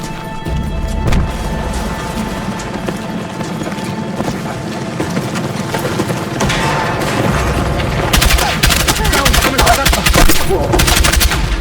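Heavy gunfire in the Battlefield 6 campaign: loud, rapid automatic bursts and single shots crack continuously, with crashes and booms mixed in, intensifying toward the end.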